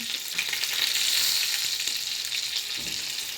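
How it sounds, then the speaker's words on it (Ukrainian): Fish fries in a pan with a loud, steady sizzle and crackle close by, a dense hiss that swells slightly and holds throughout without any voices. "Підсмажила рибку з одної сторони."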